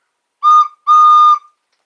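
Whistle imitating a train, two loud close blasts with a steady tone, a short one followed by a longer one, with silence between and after.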